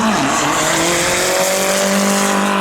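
A drag race car launches hard off the line at a winter spectator drag event, a loud close burst of revving engine with a rising pitch and tire squeal over a couple of seconds.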